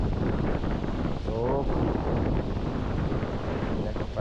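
Strong wind buffets the microphone on a seaside fishing jetty, a steady loud roar throughout, with a brief voice in the middle.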